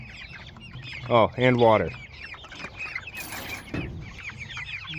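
A Blue Andalusian rooster clucks close by in a loud, harmonic burst of rising calls, while someone talks to it before and after.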